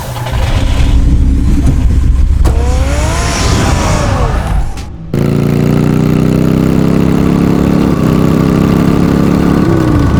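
A car engine in an animated Batman series turns over and settles into a steady, loud idle with low rumble, a brief dip midway before the motor holds a continuous hum through the end.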